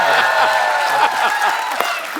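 Studio audience applause at a comedy talk show featuring wrestlers, a dense steady roar of clapping hands lasting throughout, loud and close, with voices faintly mixed in.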